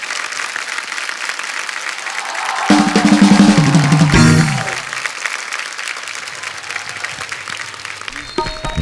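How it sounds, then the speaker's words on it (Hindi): Loud, continuous studio audience applause for Nawazuddin Siddiqui on The Kapil Sharma Show, a dense wash of clapping that swells midway with cheering voices and brief musical tones, then settles into steady clapping. "जोरदार तालियां एक बार नवाज भाई के लिए"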